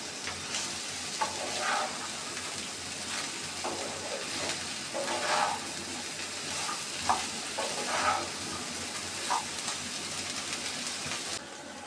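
Okra frying in a pan with salt mixed in gives a continuous close sizzle, broken by a series of scraping stir strokes at uneven intervals, with no voices.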